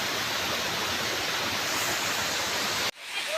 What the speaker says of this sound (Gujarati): પાછળ કેવો મસ્ત કુદરતી ધોધ વહી રહ્યો છે